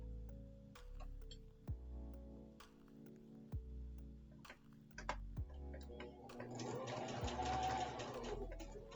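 A home sewing machine works appliqué stars in slow single stitches, each a soft tick or clunk spaced apart, followed by a brief faster whirring burst near the end, quiet and close.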